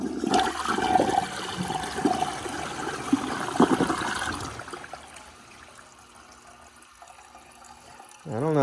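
A 2012 VitrA Evergreen toilet flushing a handful of dried grass: a loud gurgling rush of water for about four seconds, fading into a quieter trickle as the tank refills, then a brief rising gush at the end.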